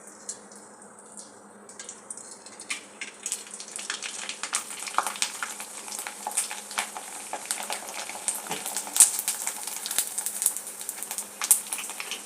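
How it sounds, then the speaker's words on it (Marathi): Kurdai rice crisps frying in hot oil give a busy bubbling crackle that starts quiet and builds into dense, irregular popping and sputtering, close and moderately loud. "कुरडई तळून घेते."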